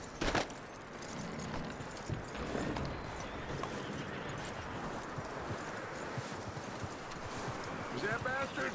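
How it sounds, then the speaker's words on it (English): Horse hooves clip-clop in the Red Dead Redemption 2 game world as a horse moves at a steady pace, with a faint jingle of tack. The steps stay close and moderately loud over a continuous outdoor background. "That looks like a decent horse."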